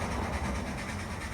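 An N scale model steam locomotive's sound chip runs steadily, giving a continuous rumbling chuff close by, with no talk over it.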